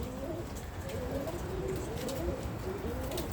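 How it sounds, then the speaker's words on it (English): Birmingham Roller pigeons coo in a loft, the low, throaty warbling calls overlapping and repeating steadily, close and fairly loud against a constant background hum. "That's a nice little bird right here. This little cock bird."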